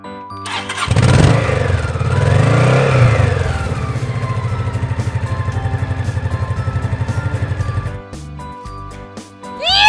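Toy army motorbike making an engine start-up sound, with a rising rev, then a rapid pulsing idle putter that holds for several seconds before cutting off abruptly.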